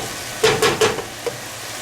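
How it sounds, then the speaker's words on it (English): Garlic sautés in a pan while a spoon stirs it, giving three quick scraping strokes close together and then one lighter stroke. The sizzle underneath is soft and steady, and no voices come in. "So next we are going to add in our garlic. Give that a nice stir."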